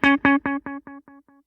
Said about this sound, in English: Just do a mono delay, which is a single channel.